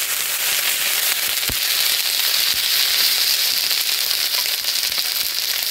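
Spice masala for meat biryani fries in a pan in a village kitchen, a steady close hiss and crackle with a few sharp pops, with no talking.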